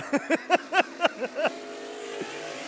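Race cars on the Stockton dirt track rip past in a quick string of about seven loud, rising engine bursts, then the roar fades into a distant drone with one last faint rev.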